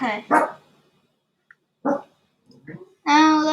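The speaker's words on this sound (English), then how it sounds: "that was my dog as always" A pet dog barks in short separate bursts at a home desk, fairly loud and close, with a brief word spoken between the barks.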